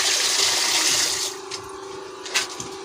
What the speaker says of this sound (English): you can see that the water is coming out